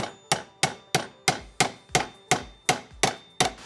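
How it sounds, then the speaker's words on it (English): A hammer strikes a metal wagon part about ten times at an even, quick pace, bending it into a bike trailer hitch; each blow is a sharp, close, ringing clang with no talk. "Get a good old hammer here."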